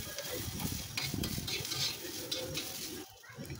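Chopped onion, already roasted, frying in added oil for a suran (elephant-foot yam) vegetable dish, giving a steady close sizzle with stirring scrapes that dips briefly near the end.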